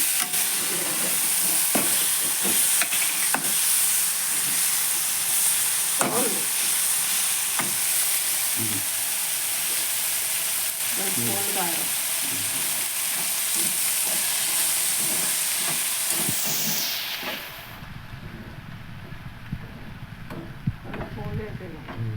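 Broad beans (chikkudukaya) frying in a pan, with a steady loud sizzle and occasional stirring clatter. The sizzle drops away near the end, leaving a lower, quieter hiss.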